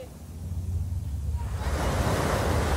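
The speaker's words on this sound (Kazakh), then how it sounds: "Мына, келтет, мына, тақыр ештекесін қалтырбай жуып кетті." A big ocean wave rushes up and washes over the shore of a Florida beach, the surf swelling from a moderate roar to a loud, sustained wash about halfway through.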